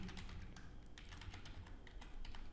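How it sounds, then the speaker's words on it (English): Rapid typing on a computer keyboard, a quick run of clicky keystrokes with uneven rhythm, fairly close and continuous with no talking. "instead of CSS, I'm going to type out JavaScript"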